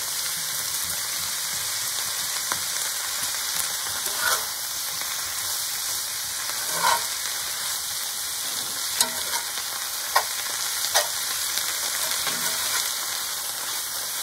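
Collard greens fry in oil in a pan, giving a continuous soft sizzle with scattered clicks and scrapes as they are stirred, no voices.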